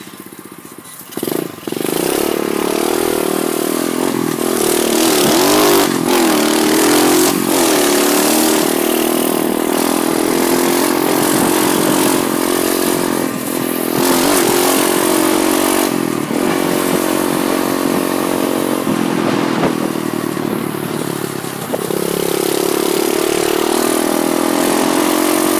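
An SSR pit bike engine while riding on a road, a loud, close, buzzing mid-pitched drone that starts after a brief pause and holds steady with small throttle changes.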